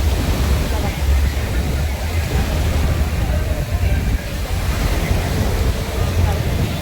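Sea waves break steadily on a crowded Goa beach, a continuous loud wash of surf with wind noise filling the whole stretch.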